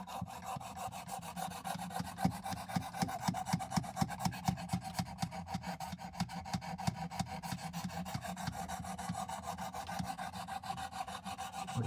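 A WW2 M3 knife blade is rubbed up and down a coarse grit sharpening stone at a 20-degree angle, giving a close, rapid, steady run of rasping strokes that continues without pause and with no voices.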